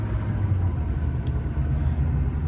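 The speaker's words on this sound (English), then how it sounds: "Hear my supercharger whining." A 2007 Duramax LBZ diesel truck with a supercharger, on the move with a low rumbling engine drone and faint mid-range whine, steady and fairly close, no speech.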